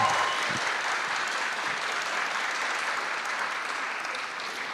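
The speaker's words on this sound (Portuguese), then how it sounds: "Acho que ele merece aplausos também." Steady, dense audience applause fills a panel session on Zionism at a Shavuot night-study event, holding loud and even for the full stretch with no speech over it.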